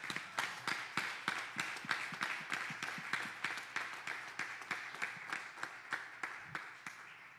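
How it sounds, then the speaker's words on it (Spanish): An audience bursts into strong applause at a religious gathering, steady rhythmic clapping that fills the room and carries on for several seconds without talk. "Vamos a darle un fuerte aplauso a Manuel."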